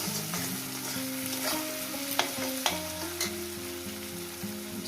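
Garlic, ginger and spice paste frying in a pan over medium gas, a steady sizzle with a few sharp clicks of a utensil against the pan, with faint tonal hum beneath.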